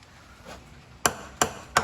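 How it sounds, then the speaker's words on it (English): A hammer taps a motorcycle stator cover three times in quick, light, evenly spaced strikes, close up against a quiet background. "the gasket's probably going to be stuck, so you're going to need to tap around it with a hammer"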